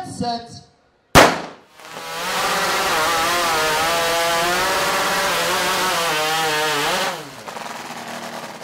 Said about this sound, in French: Les tronçonneuses de compétition sont équipées de moteurs de moto.